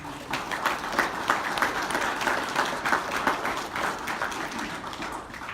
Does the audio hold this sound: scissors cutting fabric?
no